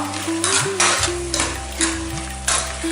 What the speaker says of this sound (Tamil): புதினா எல்லாத்தையும் போட்டு நல்லா ஒரு வதக்கிட்டுலாம்